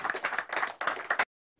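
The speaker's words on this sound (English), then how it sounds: "A round of applause for yourself." A community meeting audience at a recording studio claps, a few seconds of uneven, fairly close applause from a small group that stops abruptly.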